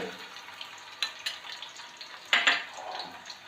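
Ginger and garlic fry in a little oil over low heat for chicken biryani, giving a faint, steady sizzle broken by a few soft scraping stirs of the pan.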